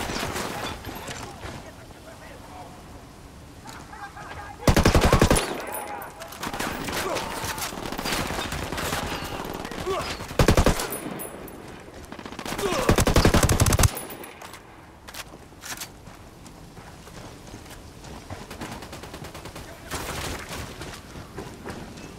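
Bursts of automatic gunfire in the tactical shooter Ghost Recon Wildlands, several loud clustered volleys at a prison site spaced through a quieter stretch with ambient game sounds and occasional radio-style voices.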